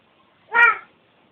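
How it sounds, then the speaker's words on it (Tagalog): A single clear cat meow, close and fairly loud, rising and falling over about a third of a second in an otherwise quiet room. "Andiyan pati pusa."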